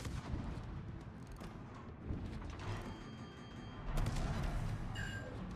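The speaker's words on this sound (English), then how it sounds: "And there goes his secondaries because of course they would" Warship secondary guns fire in a World of Warships ranked naval battle, a few dull booms thudding through a steady wash of engine and sea rumble.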